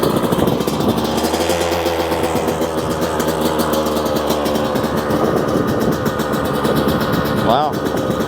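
A Yamaha YZ125 dirt bike fitted with a Smartcarb SC2 carburetor runs with a steady, buzzing engine drone that holds loud and continuous throughout, with a slight rise near the end.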